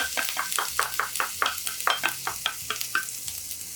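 Chopped dried red chili, minced garlic and grated ginger sizzle in a hot pan over medium-high heat for a spicy shrimp stir-fry, with a steady frying hiss broken by about a dozen rhythmic scraping stirs close by.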